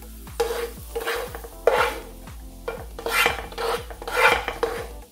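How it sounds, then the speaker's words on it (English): Cauliflower rice stirred and scraped in a hot pan, with rhythmic rasping strokes roughly once a second, close and moderately loud, plus light sizzle underneath and no talking. "Put the cauliflower in here."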